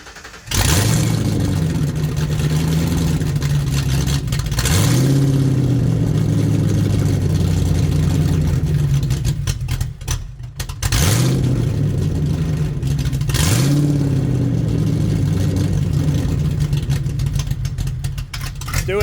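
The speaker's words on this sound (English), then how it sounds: "fire this thing up and see what it sounds like without any exhaust" A Ford Mustang with its exhaust removed starts up and revs loudly and rawly, two rising blips, a long rough idle, a brief drop, then two more revs and a sustained roar, very close.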